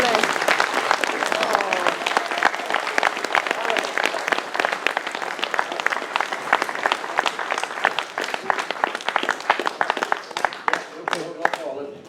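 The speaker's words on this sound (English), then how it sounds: "round of applause for Michael" A conference audience at a UFO truth gathering gives a sustained round of applause for a speaker named Michael, dense steady clapping filling the room for about twelve seconds before thinning out near the end.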